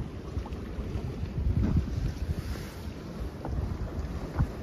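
Boat on the sea off the north coast of Menorca, its motor and rushing water blended with gusty wind buffeting the microphone, a loud, choppy, continuous wash with no talking.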